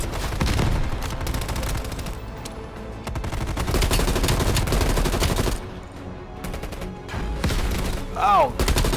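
Loud, dense gunfire from the video game Black Ops Cold War, rapid automatic bursts and booming shots that nearly fill the stretch, with a brief lull before more firing.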